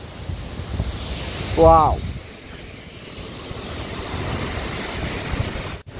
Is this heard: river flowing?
yes